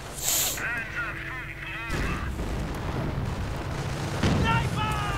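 Artillery shells crash down in a World War II strategy game battle, a sharp blast near the start and another booming impact around the middle, over a steady rumble of distant gunfire and battlefield noise.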